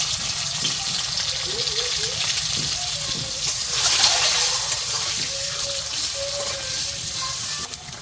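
An egg fries in hot oil in a wok with a constant bubbling sizzle, close and fairly loud, with a few faint scraping tones over it.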